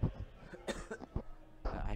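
A Magic: The Gathering commentator recovering from a head cold coughs in several short, close bursts, with rough throat-clearing between them.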